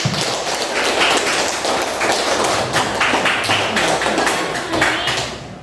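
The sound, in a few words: applause in a classroom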